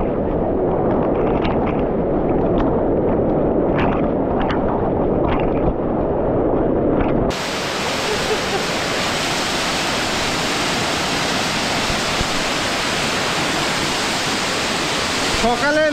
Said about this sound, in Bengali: পানি পড়ছে।